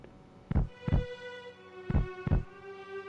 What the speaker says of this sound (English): That is Sephiroth's heartbeat.